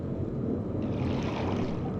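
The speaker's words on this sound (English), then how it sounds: "we hear this kind of windy gust, probably coming from this tube" A steady windy gust blows from a tube in the video game realMYST's Selenitic Age, a continuous breathy rush that grows brighter and louder partway through and stays constant with no talk.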